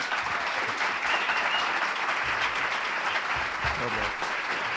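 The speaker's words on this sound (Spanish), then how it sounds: "un aplauso para Miguel Reyán" Sustained applause from a live audience at a podcast recording, a steady, dense wash of clapping filling the whole stretch with faint voices beneath.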